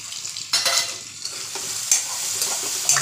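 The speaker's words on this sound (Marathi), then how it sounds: "आता कांदा शिजत आलेला आहे. थोडंसं हळद आणि हिंग टाकलेलं आहे" Chopped onion sizzles in a pan with turmeric and asafoetida, a close, bright frying hiss broken by a few scraping stirs of a spoon, with no voices.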